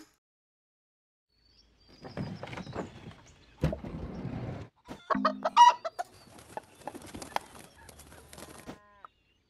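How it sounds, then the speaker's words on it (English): A video game hen clucks in short, choppy bursts, fairly close and moderately loud, with brief pauses between runs of clucks and no talking. "Hen."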